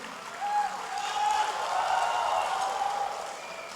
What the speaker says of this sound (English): Can I get a loud clap for all of us here to see your energy?